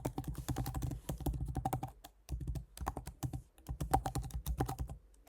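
An email address being typed on a computer keyboard: quick bursts of close, crisp key clicks with brief pauses between runs of keystrokes.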